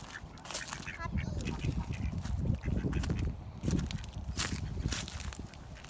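Baby ducks bathing down in the mud quack in a steady, busy chatter, with people talking over them almost the whole time.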